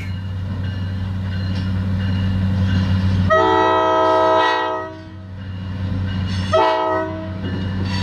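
A Sierra Northern train on the Oakdale to Sonora line rumbles past up close under a loud, steady engine drone, sounding two strong horn blasts, the second one shorter.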